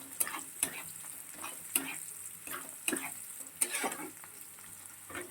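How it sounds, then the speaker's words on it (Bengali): Onions frying in a pan, a soft continuous sizzle broken by about six rhythmic scraping stirs of a spatula, quiet and close, with no talking. "দেখো পেঁয়াজটা একটু ভাজা ভাজা প্রায় হয়ে গেছে।"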